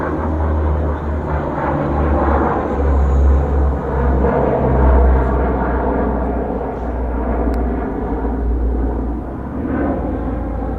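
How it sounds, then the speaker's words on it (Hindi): An airplane flying past near International Islamic University Islamabad, a loud, steady low engine roar that swells and holds close by for the whole stretch, with no talk over it. "आप ये जहाज़ देखें"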